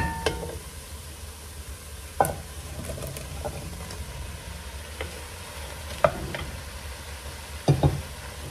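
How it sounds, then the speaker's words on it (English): Sausage frying for red beans and rice, a soft, steady sizzle in the pot with occasional spoon knocks and stirring scrapes, close and without talk. "now let's put in that sausage, and we want to fry that sausage up really good"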